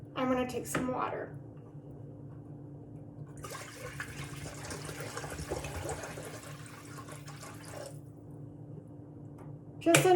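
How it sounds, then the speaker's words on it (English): Water running into a Dutch oven from a tap, a steady hissing rush lasting about four seconds between quieter moments, with a brief knock or clatter at the start and end. "Then I'm going to take some water."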